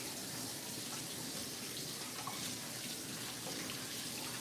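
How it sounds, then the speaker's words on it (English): Running kitchen tap water pouring steadily into a sink while hands are washed, a close, continuous even splashing hiss with no voices. "So let me wash my hands real quick."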